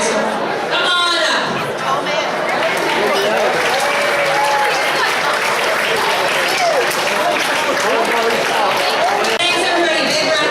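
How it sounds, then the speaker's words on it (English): Loud, sustained applause from an audience fills the room, with cheering and crowd chatter mixed in throughout. "Big round of applause for our community partners."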